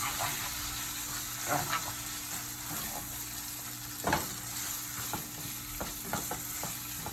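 A spoon mixes ketchup into Jamaican beef patty filling in a sizzling pan, with steady frying hiss under irregular scraping stirs and one sharper clack, close up and with no talk.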